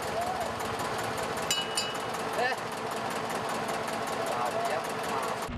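Engine of a small wooden fishing boat on the Bay of Bengal, running steadily as a close, continuous mechanical drone with a few brief clanks.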